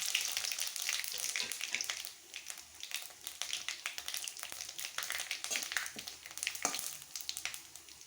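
Whole cardamom, bay leaf, dried red chilli, fennel and cumin sizzle in hot oil, a faint uneven crackling hiss with scattered small pops and a brief lull partway through, with no voices.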